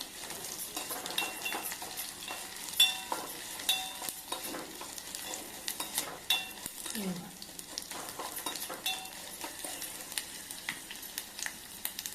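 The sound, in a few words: tempering spices frying in pan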